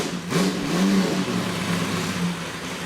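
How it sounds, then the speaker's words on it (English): A late-1960s or early-1970s Porsche 917K race car engine cranks briefly and then catches, settling into a steady, rumbling idle close by. "So a great starter and ignition sound there. Fires right to life."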